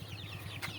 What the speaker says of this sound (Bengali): এই যে আমার মুরগিগুলো, আলহামদুলিল্লাহ মুরগিগুলো সবগুলো ঠিক আছে